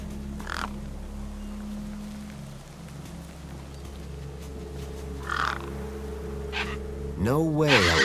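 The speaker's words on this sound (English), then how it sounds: "No way I was going to get between those birds and their feast." Crows cawing over a feast in the video game Beyond a Steel Sky, a few scattered harsh caws over a low steady hum, with a voice talking near the end.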